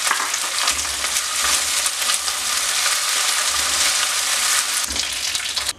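Black raisins fry in a pan while cooking aval payasam, producing a continuous, fairly loud sizzling hiss with light shifting bursts, and no one speaking.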